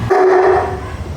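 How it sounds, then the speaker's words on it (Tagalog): A Great Dane gives a single drawn-out bark or howl-like yelp, loud and close, lasting about half a second before fading into room noise. "Gandang aso nito."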